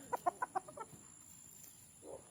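A Boston Roundhead dark side rooster gives a quick run of four or five sharp clucks up close, then a few softer ones and a brief low call, with no talking.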